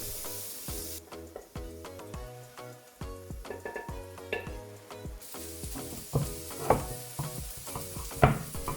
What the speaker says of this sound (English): The sliced onion, sliced paprika and carrots will be sautéed until they slowly soften.